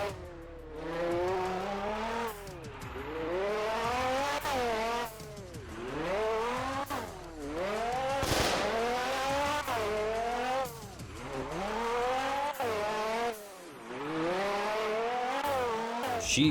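A car in the Roblox game Fix It Up laps a circuit, its engine repeatedly revving up through the gears in rising sweeps, dropping off between shifts and corners with occasional tire squeal, loud and close throughout.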